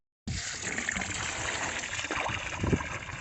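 A hose runs into a water trough on a farm in freezing weather, a steady close gush of pouring water that starts abruptly and keeps up unbroken, with a few splashy surges near the end.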